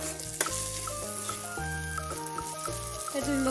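Fish egg bhurji frying in masala over a low flame, a steady sizzle with scraping stirring strokes, close and continuous, under a soft melodic music bed.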